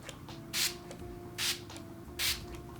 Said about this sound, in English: I'm gonna shake it up, give a little spray